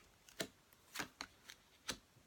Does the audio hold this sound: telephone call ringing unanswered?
no